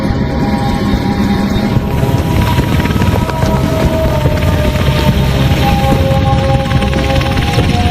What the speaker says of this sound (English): The copter hits the ground in a maelstrom of dust.